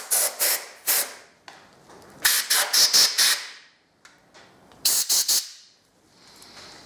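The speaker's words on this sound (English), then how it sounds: "I have a compressor in my garage, so I'm just going to blow out the swarf" Compressed air from a garage compressor blasts metal swarf out of a freshly drilled hole in a single-turbo Supra, loud hissing bursts in short repeated clusters of three to five, separated by brief quiet gaps.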